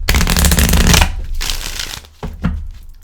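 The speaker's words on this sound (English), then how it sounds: "Give that a shuffle." Close, crisp riffling and flapping of tarot cards being shuffled, a dense flurry at first, then a few shorter bursts.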